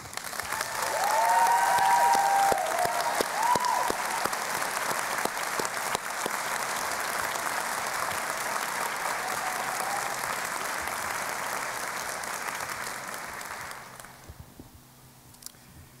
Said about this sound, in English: I would like the deans, the faculty, and especially the students to join me in applauding all of you.